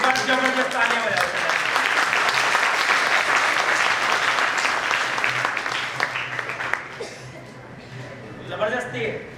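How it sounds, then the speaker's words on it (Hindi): A seminar audience at a network marketing session breaks into loud, sustained applause that swells strongly, then thins out after about seven seconds as a voice takes over. "अब एक बार जबरदस्त तालियां बजाओ।"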